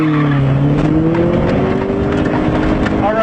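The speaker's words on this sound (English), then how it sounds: "Now simply launch the car like I told you earlier." A car with a manual transmission launches from a standstill, its engine roaring loudly and climbing in pitch as the tires squeal under hard acceleration, with a voice faintly beneath.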